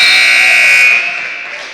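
A basketball game buzzer sounding at the end of the first half of a boys' high school game. It is one loud, sustained electronic tone held steady and then fading slightly.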